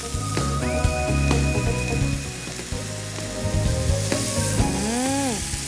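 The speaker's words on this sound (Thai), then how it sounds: "ใส่เห็ดแล้วนะคะ แล้วเราก็คั่วนะคะคั่วแบบนี้" King oyster mushrooms being stir-roasted in a hot pan, giving a dense close sizzle with clinking stirs over a low steady hum and a few tonal whines, no voices.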